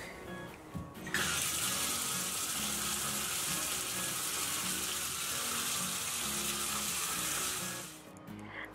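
Warm water gushing from a tap into a bathtub, a strong steady hiss that starts abruptly and runs unbroken before easing off at the end, with no one speaking.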